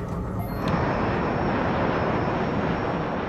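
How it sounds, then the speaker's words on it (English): An Airbus airliner on a test flight over France, its engines producing a loud, steady, close roar with no speech. "The Airbus will now loop back east of Bordeaux and return to Perpignan."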